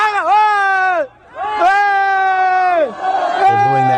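A crowd boos loudly as a man starts walking down some steps. The booing comes in long, sustained, voice-heavy waves, close and strong, with a short gap between two swells.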